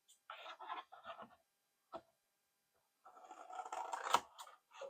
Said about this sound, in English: And I'm going to just cut along here as well.